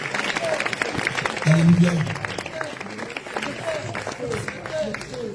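A church congregation applauds and cheers in acclamation of Jesus at a deliverance prayer service in Côte d'Ivoire, with steady clapping and crowd voices under a leader's spoken acclamation, and a brief louder swell midway.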